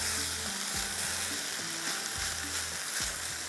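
Rice and tomatoes are stirred in a frying pan under a loud, steady sizzle, with a few spoon scrapes at regular intervals.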